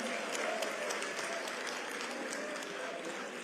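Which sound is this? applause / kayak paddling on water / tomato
applause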